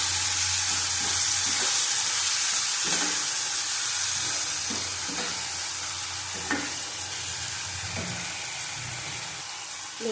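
Tomatoes and potatoes sauté in a pan with salt, giving a steady loud sizzle that eases slightly over time, broken by several soft scraping stirs at intervals.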